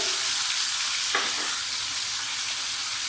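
Small chopped pieces of pointed gourd (potol) fry with salt in a pan of white oil, giving a constant close sizzle with a brief stirring scrape partway through.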